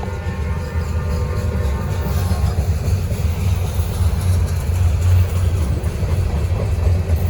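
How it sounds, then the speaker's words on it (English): Heavy Norfolk Southern NS 975 freight train, well over 150 cars, passes close by with a constant low rumble and clatter of cars, loud and steady throughout, with no talking. "Train's probably still over 150 cars."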